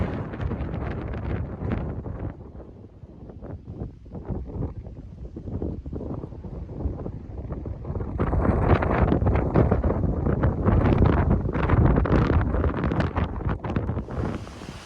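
Steady wind buffets the microphone in gusty rumbling bursts at Shuckstack Fire Tower in the Great Smoky Mountains, growing stronger partway through, with no voices.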